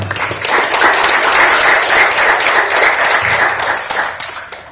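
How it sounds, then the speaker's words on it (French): Loud, sustained applause from the crowd at a graduation ceremony, dense clapping that holds steady for several seconds before easing slightly. "Applaudissez encore une fois."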